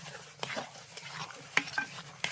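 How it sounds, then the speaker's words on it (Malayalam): Roasted rice flour is stirred in a pan with a spatula, making soft, quiet scraping and a few light metallic clicks, close by, without speech. "അപ്പൊ അമ്മ വിതറും, ഞാൻ ഇളക്കും."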